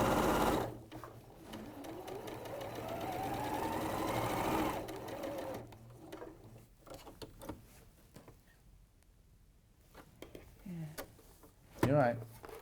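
A sewing machine stitching fabric runs in a fast, even mechanical rattle for about four seconds, then stops. Quieter clicks and handling noises follow, and people talk through the later part.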